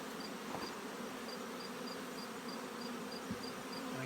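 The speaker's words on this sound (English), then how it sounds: "So I shake the bees off into my tub." A steady, dense buzzing of many honey bees at a hive brood nest, continuous and fairly close, with no voices.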